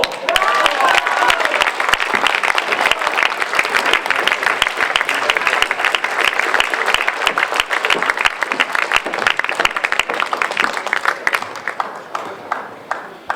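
Theatre audience applauding at a live 360-degree stage show in Riva Ligure, dense sustained clapping from a crowd that holds steady and begins to thin toward the end.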